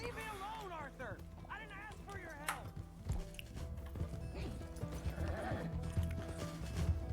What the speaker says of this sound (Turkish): Arap atı var bende.